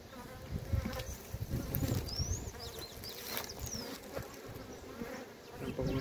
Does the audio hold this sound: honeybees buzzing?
yes